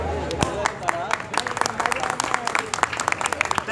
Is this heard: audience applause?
yes